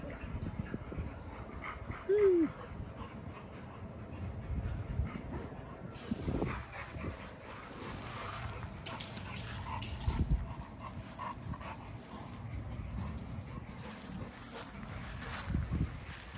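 A Great Dane gives a short, faint whimper amid quiet outdoor background noise, with occasional low thumps and distant sounds around it.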